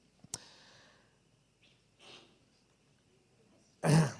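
A single short, sharp burst at the end, like a sneeze, after a quiet stretch with a click and a faint breath.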